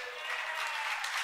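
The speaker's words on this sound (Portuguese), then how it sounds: "Quem está te aplaudindo" A church audience claps together in a brief burst of applause at a spiritual sermon, dense and fairly faint, with a voice speaking over it.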